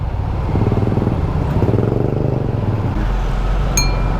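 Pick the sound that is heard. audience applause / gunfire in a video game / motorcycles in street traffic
motorcycles in street traffic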